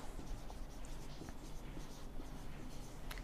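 Marker or chalk writing on a board during a geometry lesson, a faint, scratchy run of short strokes close by, with no talking.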